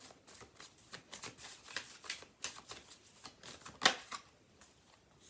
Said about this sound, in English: So I'm going to pull 5 cards.